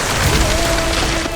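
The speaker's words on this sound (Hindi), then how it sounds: "ये तो बर्फ का तूफान बन गया।" A magical snowstorm effect from a Hindi fantasy adventure series: a loud, steady rushing hiss like driving wind and sleet, with a faint sustained whine running through it and no voices.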